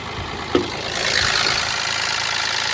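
A faulty three-cylinder turbo car engine idles with a rough, uneven running note, rising slightly after a brief knock, close by and steady.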